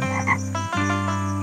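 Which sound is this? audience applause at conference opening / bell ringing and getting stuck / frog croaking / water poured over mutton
frog croaking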